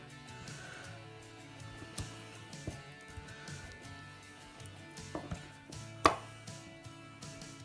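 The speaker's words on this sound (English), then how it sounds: "What you're going to do is cut it up into small squares." A normal kitchen knife cuts saponified soap dough into small squares, making soft irregular chops and taps with one sharper knock, close and fairly quiet, with no talking.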